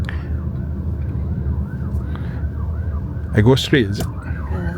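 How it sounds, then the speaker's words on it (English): An ambulance siren wails in city traffic in Malaysia, heard from inside a Zeekr 7X SUV on a test drive, steady and moderately distant under cabin noise, while occupants talk briefly. "We'll let the ambulance go first"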